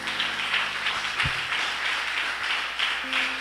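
Church congregation applauding together during a Spanish-language sermon, steady dense clapping that swells in waves across a few seconds, fairly close and loud with no talk over it.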